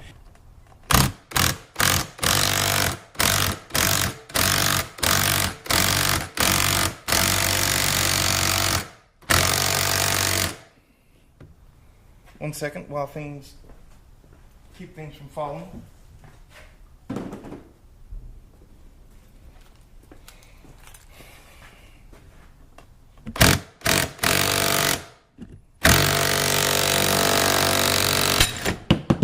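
Ball joint being pressed out of a car's suspension with a ball joint press kit, spacer and 17 mm socket, driven by a loud impact-style tool in rapid hammering bursts, with a pause and quiet handling noises between runs and a brief spoken remark.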